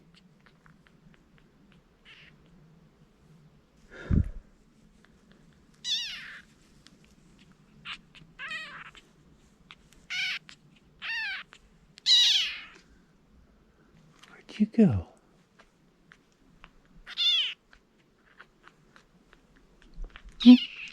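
A mother cat calls out in a series of separate, clear meows spaced a few seconds apart in a quiet room, some short and some drawn out, while a person speaks softly between them.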